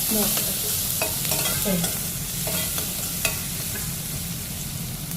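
Oil sizzles steadily in a pan as ginger, green chillies and garlic fry, with occasional scraping and stirring clatters from a utensil over the continuous crackle.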